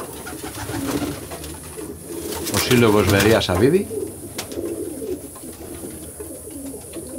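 Pigeons coo in a soft, repeated throaty rhythm near the middle while someone talks over them and birds call in the background.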